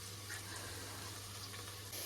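Water pours steadily into a cooking pot over freshly fried tempering, a continuous close gushing splash lasting the whole moment with no talking.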